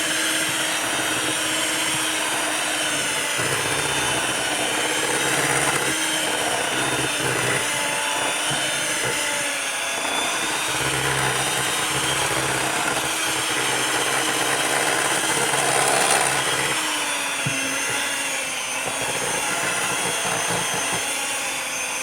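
An electric stand mixer kneading stiff yeast dough, a continuous loud motor whine and grinding hum with slight strain and shifting load throughout, with no talking.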